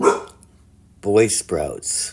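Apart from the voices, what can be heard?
dog barking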